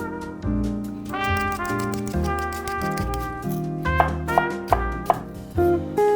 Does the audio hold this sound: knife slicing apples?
yes